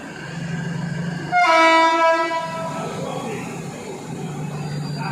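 Diesel train horn of an Alsthom locomotive hauling a Thai rapid train, a loud harmonic blast of about a second and a half that rises above steady rail and engine rumble, with the train continuing to hum afterward.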